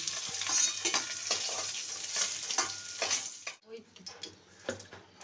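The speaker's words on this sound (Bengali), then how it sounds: "মুড়োগুলো ভাজা হোক" Hilsa fish heads sizzle in hot oil with a steady hiss, broken by scraping stirs and utensil clinks. The sound drops out briefly and then resumes more faintly.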